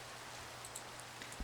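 Soft, steady rain falling in the blocky sandbox game Minecraft, a faint even hiss with a few scattered droplet ticks and one low thump near the end, no voices.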